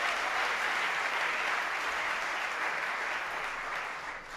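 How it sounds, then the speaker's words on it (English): An audience claps steadily at a community candidate assembly, a dense, even wash of applause held throughout that eases off slightly toward the end, with no one speaking over it. "clap your hands in this house"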